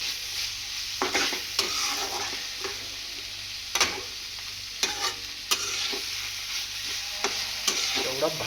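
Fried potatoes are stirred into a spiced masala for aloo matar sabji in a sizzling pan, with a constant hiss and repeated close spoon knocks and scrapes at an irregular pace.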